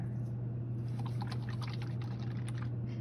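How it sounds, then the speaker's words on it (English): A paintbrush is rinsed in a container of water, giving faint, soft swishing and trickling over a steady low hum, with no one speaking. "Rinsing my brush"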